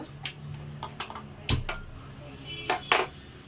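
A metal kadai (wok) is set down for frying banana snacks, producing a few close, quiet metallic clanks and clinks scattered across a calm kitchen background.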